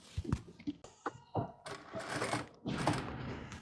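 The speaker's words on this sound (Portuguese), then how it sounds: "Então, aqui, a gente vai costurar ela aqui." A sewing machine stitches a muslin dress in short bursts, its motor whirring on and off with brief pauses and a couple of longer runs, heard up close.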